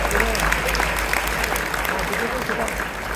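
Audience applause at a spring medical association gala dinner in Chicago, a dense, even wash of clapping filling the room for a few seconds.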